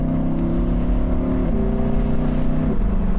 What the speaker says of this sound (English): you don't have to be thrashing the engine to get some great noises out of it